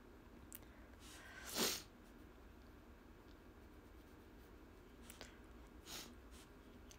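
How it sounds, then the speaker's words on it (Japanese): A single sudden sneeze bursts out near the middle of an otherwise quiet indoor stretch. Faint breaths and small rustles come before and after it. "くしゃみ、え、くしゃみめっちゃ出るんだけど。"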